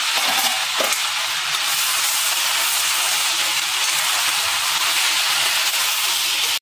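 Garlic dropped into a hot pan sets off a loud, steady sizzle and hiss that runs unbroken from start to finish, with no talking.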